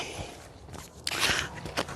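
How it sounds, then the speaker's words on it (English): Autumn leaves crunch underfoot on a leaf walk, a close, dense crackling texture with a few sharper crunches of footsteps and no talking. "do you guys hear the crunching of the leaves?"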